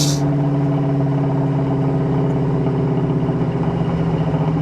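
A 1972 Chevrolet Chevelle rolls down a bumpy road, its engine a steady close hum with a faint rhythmic wobble and no voices.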